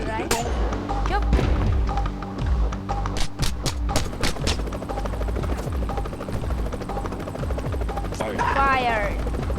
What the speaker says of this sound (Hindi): मिनी गन बहुत बोल रहा है